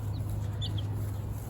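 Baby chicks in a brooder bin give a few short, high peeps that are faint and scattered over a steady low hum.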